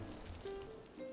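Steady rain falls in the city-building game Cities: Skylines, a continuous even wash of patter with a faint tone running through it, moderate and unbroken.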